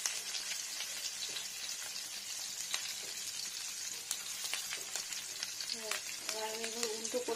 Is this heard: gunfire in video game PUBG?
no